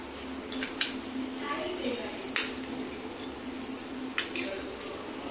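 Metal spoon clinking against a pot while ghee is added to sago khichuri, several sharp light taps and scrapes scattered over a low background, no talk.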